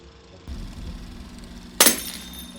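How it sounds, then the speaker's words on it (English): Glass shatters suddenly in a single loud, bright crash that decays into tinkling fragments, following a low steady ambient hum with no voices. "We are woken up by the sound of shattering glass."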